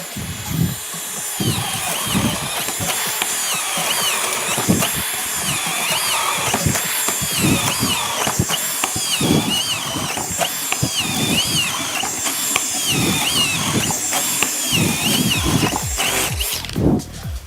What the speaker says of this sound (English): here's the performance of a 25 mm spade bit in double board plyboard